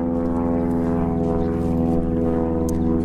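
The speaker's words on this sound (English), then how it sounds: "when that plane flies over. Those things are loud." A loud, low droning airplane passes overhead outdoors, a steady engine hum with a strong harmonic tone that holds throughout, nearly alone.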